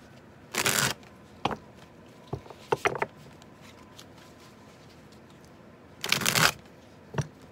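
Tarot cards are shuffled close by in two brisk riffling bursts, with scattered soft taps and flicks of card handling between them in an otherwise quiet room.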